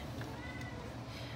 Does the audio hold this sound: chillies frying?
no